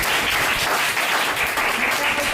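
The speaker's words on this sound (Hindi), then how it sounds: "इन पे ताली बजाना चाहिए" Loud, sustained applause from an audience, dense and even throughout with no pause, with a few faint voices beneath.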